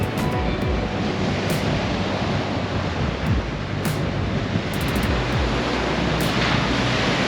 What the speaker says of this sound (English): Can you hear the waves?